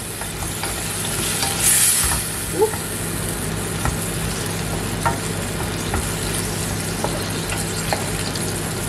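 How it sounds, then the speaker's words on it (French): Steady sizzling and frying of green beans in a hot pan, with occasional scraping clicks of stirring; a brief exclamation from a voice. "je mélange et je vais laisser réduire un petit peu"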